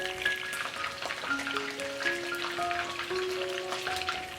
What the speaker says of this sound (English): Refry the shrimp on medium-high.